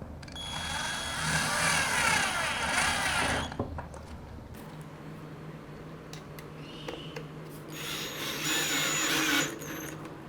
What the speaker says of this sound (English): But I'll be drilling new holes into the frame itself